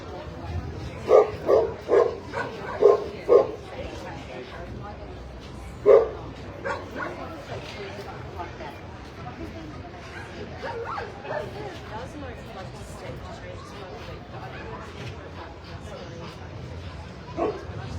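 Golden Retrievers at a dog show: a dog barks several times in a quick burst, then once more, over a voice talking steadily; the barks sound moderately close.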